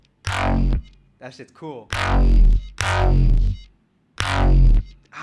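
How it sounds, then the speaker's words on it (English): Heavy distortion processing crunches a recorded voice into four loud, harsh, buzzing bursts separated by short gaps, with a brief warbling artifact and a quick spoken comment between them. "I want to see what happens if I distort it."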